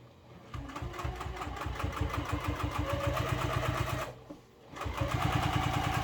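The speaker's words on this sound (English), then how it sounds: "I'm going to edge stitch both sides about 1/16, just as close as I can get" A sewing machine edge stitches fabric for a business bag close up. A fast, even run of needle strokes is broken by a brief pause before stitching resumes.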